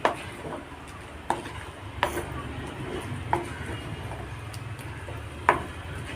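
A soft sizzle with a few sharp clinks and scrapes as banana stem pachadi is stirred around a hot pan, no talking.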